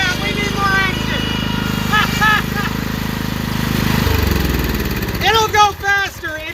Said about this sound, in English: This poor dead 14 horsepower just does not have enough torque